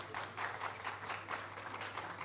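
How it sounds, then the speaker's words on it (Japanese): An audience applauds a boat racer as he is introduced at a boat-race venue, a steady patter of clapping that is faint and distant and holds throughout. "拍手お願いします。"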